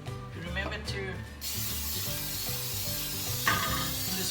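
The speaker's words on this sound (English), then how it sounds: "spray around your cake pan" Cooking spray hisses around the inside of a cake pan for a coffee cake, a steady, close, moderately loud spray that starts after a few soft clinks and runs on to the end.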